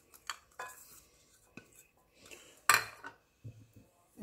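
Minced meat filling with mozzarella for Egyptian hawawshi being mixed in a pan, heard as scattered close clinks and scrapes of a utensil against the pan with pauses between, the loudest clatter coming partway through, with no talk.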